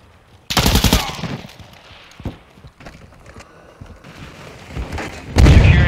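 Gunfire in the video game Call of Duty: Modern Warfare II, with a loud rapid burst of automatic shots, scattered lighter impacts and clatter, then another heavy blast at the end, all close and sharp.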